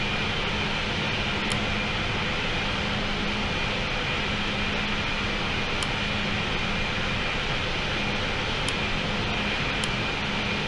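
Emirates Airbus A380 taxiing to the gate in a flight simulator game, a steady, loud jet engine whine and roar held constantly throughout, with a few faint high clicks.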